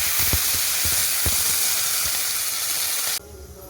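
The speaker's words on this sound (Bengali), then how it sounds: "এবার আমি দিয়ে দেবো জল।" Water poured into a pan of frying potatoes, pointed gourd and onions sets off a loud, steady hiss and sizzle with a few soft stirring knocks, then drops sharply to a quieter simmer near the end.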